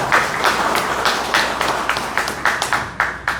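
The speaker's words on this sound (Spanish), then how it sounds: "Aplausos también, por favor." An audience at a Spanish-language lecture conference applauds, with loud, steady, rhythmic clapping that carries on for several seconds.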